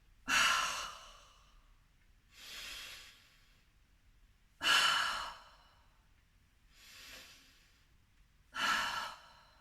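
Slow, deep breaths during a gentle chair yoga shoulder exercise, five long airy inhales and exhales spaced about two seconds apart, close and clear with no talking.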